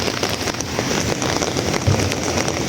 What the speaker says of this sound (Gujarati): જોઈ શકો છો કેટલો વરસાદ આવે છે.